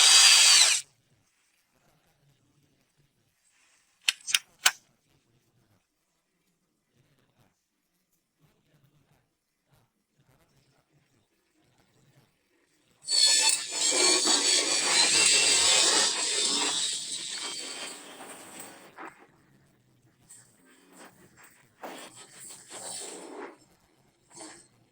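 An electric drill fitted with a shear attachment cuts old metal, a loud whirring, rasping run of several seconds that gradually fades out, following a brief burst and a couple of short clicks, with scattered quieter cutting noises after.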